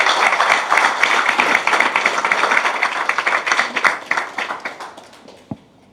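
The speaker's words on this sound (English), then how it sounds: "give them a round of applause." Wedding guests applaud a couple during the ceremony with dense, steady clapping from many hands that thins out and fades to quiet near the end.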